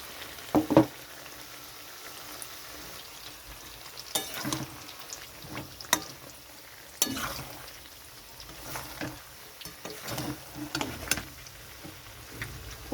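Coconut and cashew paste fries in a pan for a chicken malai curry, a soft steady sizzle broken by scattered scraping and clinking of the spoon as it is stirred, fairly quiet and close.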